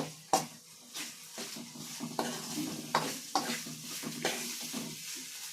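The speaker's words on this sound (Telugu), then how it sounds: "రెండు మిక్స్ అయ్యేలాగా బాగా కలుపుకోవాలి" Spicy chicken thokku masala is stirred in a pan with a sizzle of oil, the spoon scraping the pan in sharp, regular strokes about once a second, close and moderately loud with no talk.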